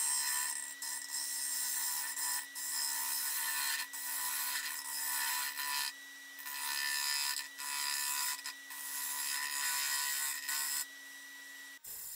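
A wooden lamp is shaped by hand with a gouge, smoothing away bumps and tool marks, giving long, steady rasping scrapes in repeated strokes with brief pauses, close and fairly loud.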